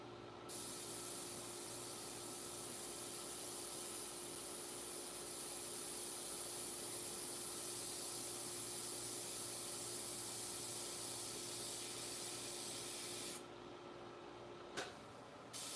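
An airbrush sprays paint for a dog portrait in a steady, close, continuous airy hiss that runs almost unbroken, cutting out briefly near the end before a short puff resumes.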